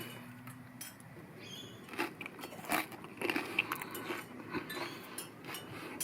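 Close-up biting and chewing of Ukrainian potato cakes (deruny) made from four ingredients, with soft crunchy bites and steady mastication over a low room hum, no talking.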